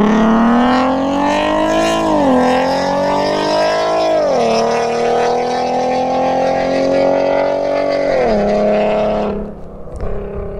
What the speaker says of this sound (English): His exhaust has like a weird vibration to it.